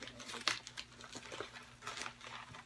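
Someone carefully opens a package holding a 16mm film, and the paper crinkles softly and close by in scattered light rustles, with one sharper crackle near the start. The sounds are quiet throughout, with no talking.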